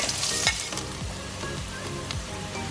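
Pork and onions sauté in a pan for pork menudo, giving a steady sizzle with a few stirring scrapes and clanks, close and moderately loud with no talking.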